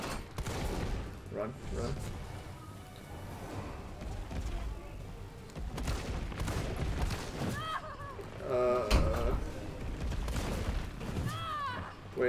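Shotgun blasts in the Resident Evil 3 video game, a few loud booming shots with mechanical clacks between them over a busy game soundscape, with a voice speaking now and then.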